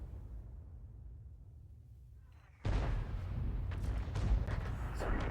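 Bat.-Châtillon 155 55 self-propelled artillery firing in World of Tanks: one sudden, heavy boom cuts in after a quiet rumbling stretch, followed by a loud, sustained roaring rumble with crackling detail.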